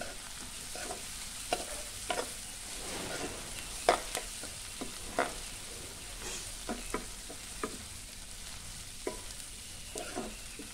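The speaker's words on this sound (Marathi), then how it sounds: "आता आपण मिरची घालूया आणि चांगली परतूया 2 मिनिटं।" Green chillies and onion stir-fried in oil: a low, steady sizzle with regular scraping taps from a stirring spoon, close and fairly quiet, with no talking.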